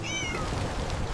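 A cartoon mother cat and kitten walking to market, with a short, clear, high cat meow that rises and falls, loud and alone over a steady background bed.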